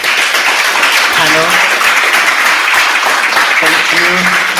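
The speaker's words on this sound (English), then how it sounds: "I would like you to applaud this great, very nice" A conference audience applauds a panel at a digital transformation event, steady dense clapping throughout with a voice speaking over it and a few brief tonal sounds.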